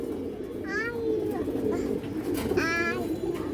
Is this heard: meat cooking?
no